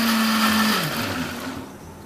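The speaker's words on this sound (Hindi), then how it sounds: "अब हम इसे अच्छा सा ग्राइंड कर लेते हैं" A blender grinding whipped cream for mango pudding, a loud, close motor whir that spins down and fades toward the end of a short burst, with no talk.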